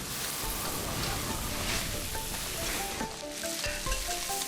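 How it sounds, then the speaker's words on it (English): Loud, crackling sizzle of egg frying in hot oil, with stirring and scraping in a wok, continuous and close. "Egg flips in the wok for just 4 seconds."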